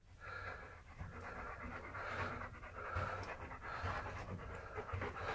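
A dog pants steadily inside a cave, quick rhythmic breaths that come close and fairly quiet, with a slight hollow echo and no talking.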